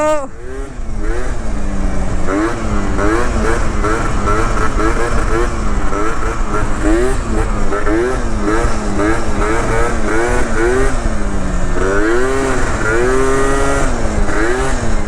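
A scooter fitted with a CP21 carburetor and altered roller setup revs hard and close, its loud engine note rising and falling in repeated sweeping bursts that carry on without a break.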